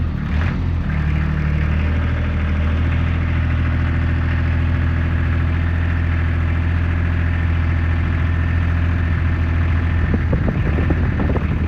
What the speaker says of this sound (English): then we got the 3-cylinder Lister in there